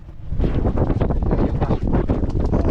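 Strong wind buffeting a microphone outdoors, a constant roaring rumble with gusty surges and no talking.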